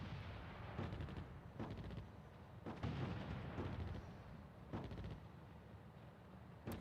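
Artillery fire in a North Africa war strategy game, a series of booming distant shell blasts landing roughly every second with rumbling tails, steady and without talk.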